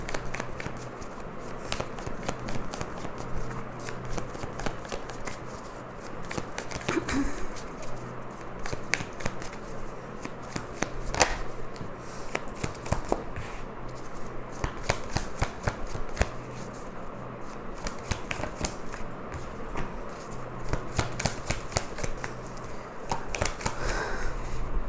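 Osho Zen tarot cards are shuffled close up in quick repeated riffles and flicks, a steady papery clatter continuing throughout without talk.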